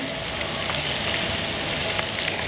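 Loud, steady sizzling and crackling of anchovies frying in hot oil, close up and continuous, with no voices.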